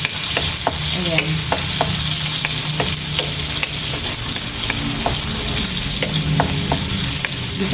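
Ingredients with whole, uncrushed black pepper sautéed in a pan, a steady close sizzle with repeated scraping stir strokes, no voices.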